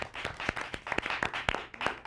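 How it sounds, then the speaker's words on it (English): An audience at a League of Women Voters Ann Arbor Area debate on Proposal 1 gives a round of applause, a fairly small group clapping in a loose, uneven patter of distinct hand claps, moderately close. "Round of applause, everybody."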